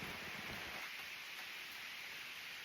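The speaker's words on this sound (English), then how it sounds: "So it's starting to rain." Rain begins falling around a roadside shelter, a steady faint hiss of drops with no voices or other sounds.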